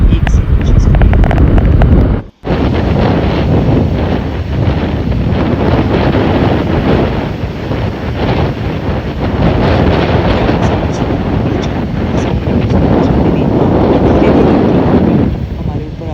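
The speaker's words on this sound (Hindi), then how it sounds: "इतनी तेज़ हवा चल रही थी।" Strong wind roaring across a boat off Phuket, Thailand, a loud continuous buffeting rush that batters the microphone almost nonstop, with voices partly audible beneath it.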